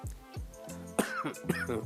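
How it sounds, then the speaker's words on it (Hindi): Two sharp coughs from someone with a cold burst out near the mic, each followed by a rougher throat-clearing sound, over a low steady hum. "सॉरी जनाब, सर्दी है, खांसी आ गई।"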